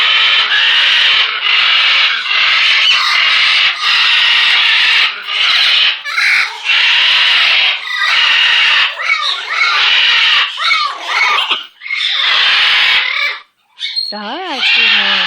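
Maui, a pet bird, squawks loudly and repeatedly in harsh, rasping bursts close by, nearly continuous, with a short pause near the end.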